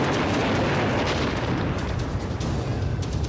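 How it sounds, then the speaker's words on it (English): A large explosion destroys a school in an action film: a dense, sustained roaring blast with crackling bursts, loud and unbroken for several seconds. "That's also a very impressive explosion sequence."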